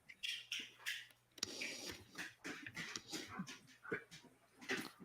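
A bored dog whimpers and squeaks in short bursts, asking to play, while people talk in a room at the same time.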